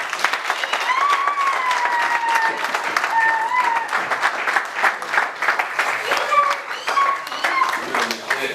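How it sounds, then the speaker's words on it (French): Audience applause at an award ceremony, a steady wash of clapping from a crowd that fills the whole stretch, with cheers and voices rising over it. "Applaudissez s'il vous plaît."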